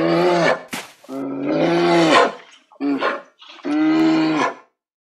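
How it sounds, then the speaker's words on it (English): A polar bear roars in four loud, close, drawn-out bursts with short pauses between them, deep and throaty, with no other sound. "Polar bear."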